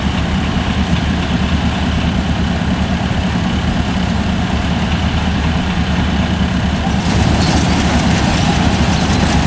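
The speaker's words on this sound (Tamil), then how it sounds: "ஓடும் போதே இன்ஜின் வண்டி எல்லாம் அப்படியே செட்டாக ஆடுது, வைப்ரேட் ஆகுது." A heavy John Deere 5405 CRDI 4WD tractor engine runs steadily and loudly at a black rice harvest, with a deep rumbling throb and rattling vibration throughout, no voices.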